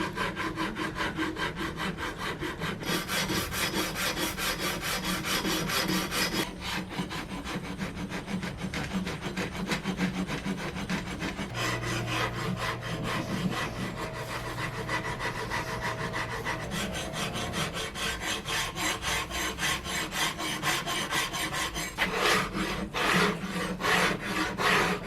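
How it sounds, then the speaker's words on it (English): Sandpaper rubs along the sides of a carved wooden guitar neck, making a continuous loud, close, scratchy rasp with a repeating back-and-forth rhythm that changes texture partway through. There is no talking. "I'm basically trying to sand down the sides until these grooves that I've made at the 1st"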